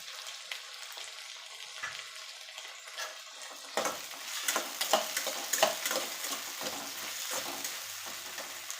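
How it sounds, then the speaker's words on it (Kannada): A big tomato is dropped into a hot pan where onions are already cooking, giving a steady close sizzle with scattered stirring clicks and a louder burst of frying partway through. "ಒಂದು ದೊಡ್ಡ ಟೊಮೆಟೊನ ಎತ್ತಿಟ್ಕೊಂಡಿನಿ ಅದನ್ನು ಹಾಕ್ತೀನಿ"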